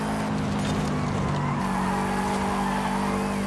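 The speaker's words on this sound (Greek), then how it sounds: "Ακούστε λαστιχάρια, σας φυράνε." A Subaru Impreza's tires squeal in the Forza Horizon 5 racing game, a sustained screech over a droning engine, loud and continuous.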